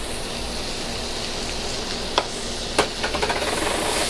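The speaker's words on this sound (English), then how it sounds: "Just gonna stir fry this just for a few seconds" Onions and garlic stir-fry in a pan for Peruvian lomo saltado, giving a steady, close sizzling hiss with a few sharp utensil clicks and scrapes near the end.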